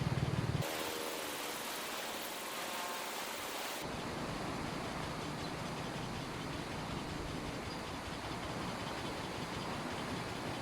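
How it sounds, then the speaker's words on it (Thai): A strongly flowing river rushes in a steady, dense roar at a fishing spot, loud and close throughout, with a brief different burst of sound at the very start and no talk over it. "คือน้ำไหลแรงมากนะครับ"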